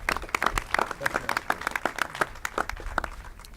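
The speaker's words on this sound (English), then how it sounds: "Let's give a round of applause for Mayor Bell from Birmingham." A crowd at a press conference claps for a mayor in a brisk, sustained round of applause, sharp individual claps blending together at moderate volume.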